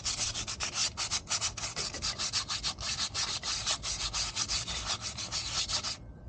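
Close, rapid strokes of sandpaper scrub across a worn motorcycle brake shoe, an even rhythmic rasp sustained for about six seconds with no talk, then stopping.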